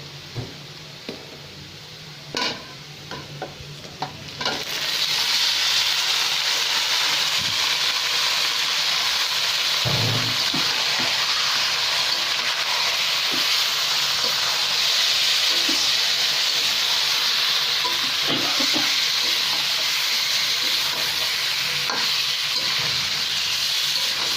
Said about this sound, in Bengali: আমার পেঁয়াজটা ভাজা হয়ে এসছে। এবার আমি এখানে মাংসগুলো দিয়ে দেব।